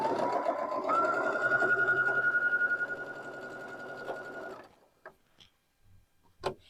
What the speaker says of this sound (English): So I just sewed right off of my first block, keeping the needle down